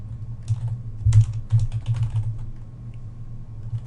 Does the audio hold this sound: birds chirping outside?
no